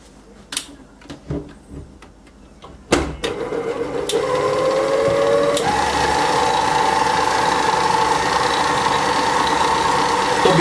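Cheesecake mixture being whipped: a few scattered knocks and clatters, then a loud, steady motor whir starts and runs continuously to the end.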